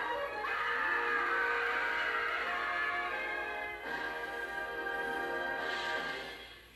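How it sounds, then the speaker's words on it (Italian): A woman's sustained, shrill scream rings out in a 1964 film trailer for Hush, Hush, Sweet Charlotte, long and loud with short breaks between cries over a dense, noisy soundtrack. "Urla a non finire."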